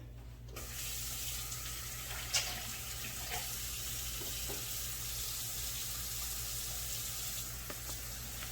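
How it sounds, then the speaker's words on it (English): Hands being washed under a running kitchen tap before making beef and cheese enchiladas, a steady hiss of flowing water with a faint clink or two, continuous and fairly close, with no talking. "I'm gonna wash it again and let the camera roll so y'all can hear me washing it"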